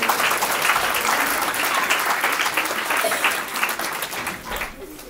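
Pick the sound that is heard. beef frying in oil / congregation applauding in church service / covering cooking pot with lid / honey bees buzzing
congregation applauding in church service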